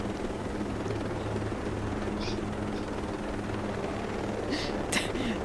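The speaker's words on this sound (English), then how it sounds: "It's a chopper" A helicopter in the video game Ghost Recon Breakpoint gives a steady low rotor drone that runs the whole way through at moderate level, with a few brief higher chirps layered on top near the end.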